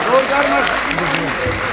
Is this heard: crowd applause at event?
yes